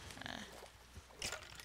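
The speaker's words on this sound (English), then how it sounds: "I found another sheep." Blocky sheep bleat from the Minecraft game world on a multiplayer server, two short bleats, the clearer one near the end, over a steady background hum.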